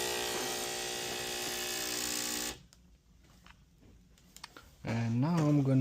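The pump of a Breville BES870XL espresso machine, which has an inlet water solenoid problem, hums loudly and evenly with a buzzing tone, cuts off abruptly, and after a quiet stretch of small clicks kicks back on with a rising drone.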